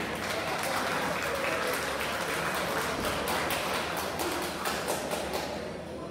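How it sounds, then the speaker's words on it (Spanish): Sustained applause from a crowd at a recognition ceremony for artisans at a town hall, steady dense clapping for the honoree's mother, moderately distant and even throughout. "¡Fuertes los aplausos para ella!"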